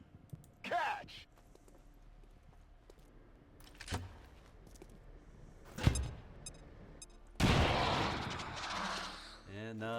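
Explosion in the video game XCOM Long War of the Chosen, a sharp boom followed by a loud broad rumbling burst late in the clip, among scattered quieter game effects and someone talking.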